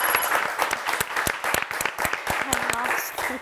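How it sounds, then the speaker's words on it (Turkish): A studio audience at a word game show applauds, with brisk, uneven hand claps that crackle for a few seconds while a voice speaks briefly over them. "Alkışlayın hak ettiniz efendim"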